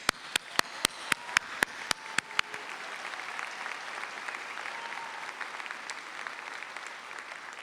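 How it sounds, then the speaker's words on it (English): Commencement audience applauding graduates at a university ceremony: a few loud, distinct claps up front, then a steady wash of crowd applause that continues evenly to the end. "So let's give the graduates another round of applause."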